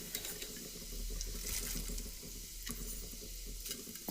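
Tempering spices of chana dal, mustard seeds and cumin sizzle in hot oil on a stovetop for an eggplant curry, a steady close crackling hiss with a few sharper pops.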